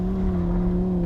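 A Lamborghini Huracán Sterrato V10 supercar drifting off-road through a corner, a steady loud engine drone with a constant pitched hum.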